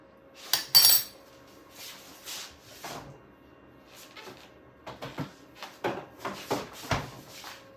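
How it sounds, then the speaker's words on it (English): Seeds and almonds tumble into a bowl in a home kitchen, giving a quick loud rattle early on, then a string of softer scattered clinks and taps with no talking. "I'm putting the seeds and almonds in for a little bit of"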